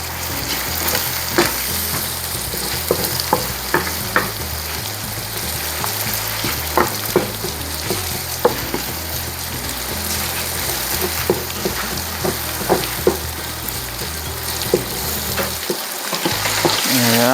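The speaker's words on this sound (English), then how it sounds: "Saute it, just like we did with the onion" Garlic and onion sautéing in a pan for chicken asado, a loud, steady sizzle and crackle filling the whole stretch, with occasional stirring scrapes and pops close by.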